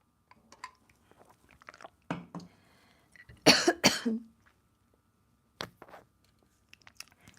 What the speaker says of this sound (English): I'm going to try not to cough a whole lot